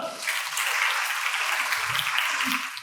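A crowd at a Korean cosmetics company's recruitment briefing claps in a brief, steady burst, with a faint low murmur underneath.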